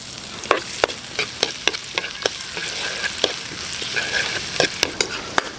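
Ginger, garlic and onion fry in hot annatto oil in a pan, with a steady close sizzle broken by repeated sharp scrapes and clacks of a stirring utensil throughout.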